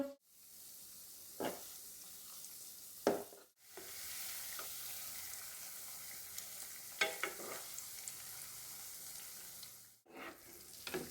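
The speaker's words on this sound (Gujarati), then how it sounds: "શક્કરપારાને તળાતા 10 મિનિટ થઈ" Steady, faint sizzling of shakkarpara dough pieces deep-frying in hot oil, broken by a few scrapes and clinks of a stirring spoon.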